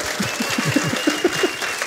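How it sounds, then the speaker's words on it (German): Audience applause at a stage event, a short burst of distinct claps, close and fairly loud, with a little crowd murmur. "Ein großer Applaus"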